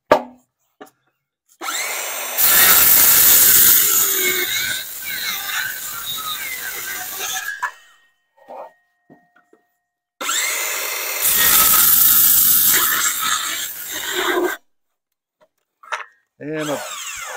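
A power saw cuts wooden bracing for the center stud of an egg mobile build, two loud sustained cutting passes separated by quiet gaps and a few short knocks and handling sounds.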